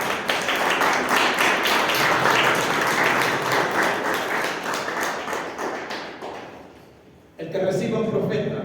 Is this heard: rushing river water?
no